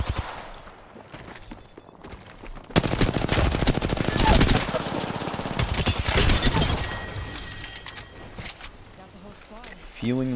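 Rapid automatic gunfire from a controller-played shooter video game bursts out loud and close in long sustained rattling volleys, with a voice talking over it.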